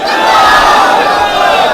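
A large crowd at a religious gathering answers with a loud, unified takbeer chant. The massed shouting holds steady for nearly two seconds.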